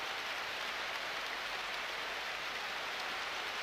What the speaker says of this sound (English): Pouring down rain. It is a torrential downpour.